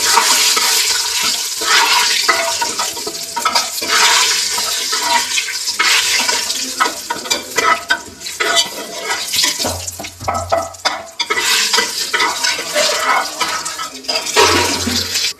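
Bay leaf, cinnamon and cardamom sizzle steadily in hot oil in a home kitchen pan. Close scraping sounds come as the spices are stirred, and the frying goes on for the whole stretch.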